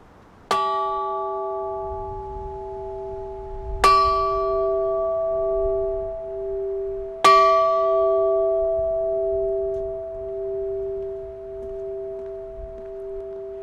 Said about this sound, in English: I'm honored to stand here today to ring the Maryville bell to end our wonderful school year.